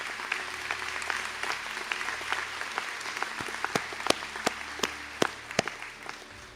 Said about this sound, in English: please be upstanding and receive a round of applause